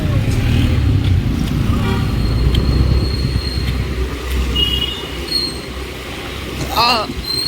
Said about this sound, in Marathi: दोन्ही तरफनं अशा गाड्या लावलेल्या आहेत त्यामुळे ट्रॅफिक जाम आहे